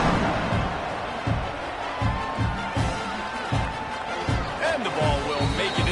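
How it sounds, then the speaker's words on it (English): A football stadium crowd at an NCAA game keeps up a steady, broad roar after a score, with rhythmic thumping and whoops rising through the din, filling the whole stretch without letup. "this crowd is buzzing after that last score"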